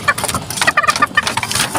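Chickens cluck in short, close bursts of a few repeated calls each, loud and near, with a faint mechanical hum underneath.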